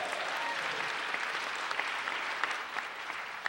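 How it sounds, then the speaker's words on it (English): Audience at the University of Massachusetts Boston applauding steadily, a dense wash of many hands clapping at moderate distance, with a few sharper claps near the end. "You can applaud that"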